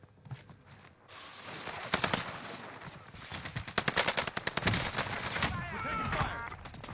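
Bursts of rapid automatic gunfire and scattered single shots erupt in a video game battle, loud and close, with a voice talking briefly between volleys.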